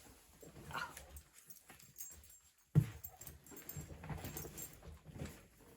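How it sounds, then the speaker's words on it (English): A dog barks a few times in the distance, muffled and intermittent, with one sharper thump nearby amid quiet room noise. "now I hear my neighbor's dog barking"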